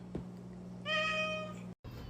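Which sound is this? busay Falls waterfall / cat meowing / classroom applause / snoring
cat meowing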